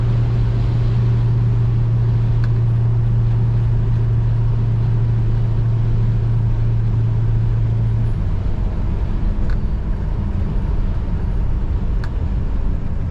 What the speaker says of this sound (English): This is a great sounding car and a good handling car.